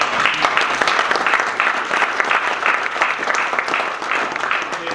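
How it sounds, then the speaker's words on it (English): A room of guests at a seminary fund luncheon claps together, a dense, steady patter of hands that holds at moderate loudness for a few seconds. "So give yourselves a clap."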